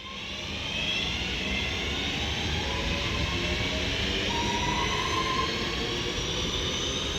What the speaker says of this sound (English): 323 225 now departs with the 1342 Northern service to Alderley Edge